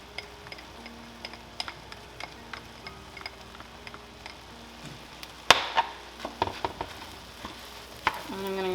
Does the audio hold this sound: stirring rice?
yes